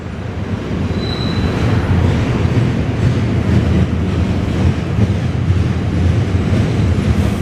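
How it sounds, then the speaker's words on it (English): A long CN freight train hauled by five engines rolls past in Montreal, a loud, steady rumbling clatter of wheels and cars with faint wheel squeal and wind buffeting. "That's a long freight, man, eh? 5 engines."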